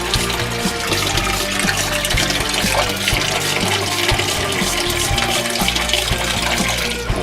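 Hydrogen peroxide is sprayed onto plants in a 150-gallon aquarium, giving a continuous loud watery hiss and splashing over the steady hum of the tank's equipment, with no pause.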